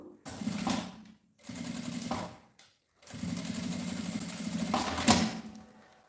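A sewing machine with a presser foot stitches a fabric case built over milk cartons, running in three bursts of whirring, a short pause between each and the last run the longest, close by.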